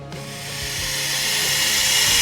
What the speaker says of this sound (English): Sorry about the hissing noise, guys. Got a leaky hose next to me.